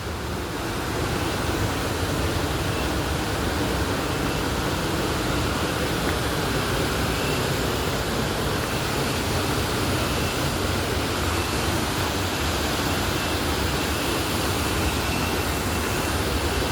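A waterfall on a dangerous trail pours in a steady, loud, broadband roar that fills the whole stretch without letup, close by and unbroken, with no voices over it.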